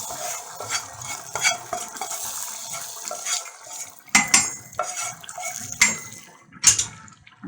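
Fried garlic tasha poured into a simmering black-eyed pea stew, heard as irregular clinks of pot and utensil with brief sizzles and stirring scrapes, close by and moderately loud, without talk.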